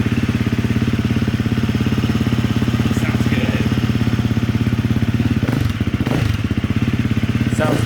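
A modified Husqvarna FE350 motorcycle engine runs close by with a steady, throaty, pulsing idle that continues throughout. A voice speaks faintly over it.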